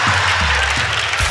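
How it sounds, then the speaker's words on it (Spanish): Audience applause at a live comedy show in Arequipa, a steady dense wash of clapping under a host's loud voice, with low voiced talk running through and a brief surge near the end. "Un fuerte aplauso para Facundo,"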